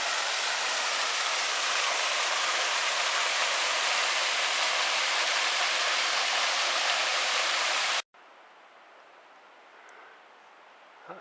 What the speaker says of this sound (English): Another cracking little waterfall, a tiny one.